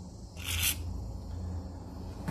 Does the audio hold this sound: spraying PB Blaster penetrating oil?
yes